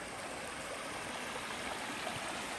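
Creek water flows steadily beside a trail in Chickasaw National Recreation Area, a continuous broadband rush and trickle at moderate level with no voices.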